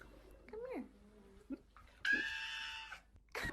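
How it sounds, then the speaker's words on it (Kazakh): A cat being bathed gives a few short, rising meows and wails, separated by bursts of splashing water, all close and fairly quiet. "Ұнамай жатқан сияқты мысыққа точно."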